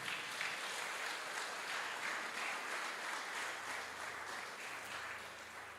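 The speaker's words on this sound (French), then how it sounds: "Est-ce que nous sommes capables d'applaudir encore sur nous?" A church congregation at a Baptist service applauds together, a steady, fairly distant wash of clapping that holds even for several seconds and eases slightly toward the end.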